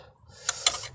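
Ratchet wrench tightening a locknut against a nut on a vehicle's accessory belt tensioner, giving two or three short metallic clicks close up after a quiet start, with no talking.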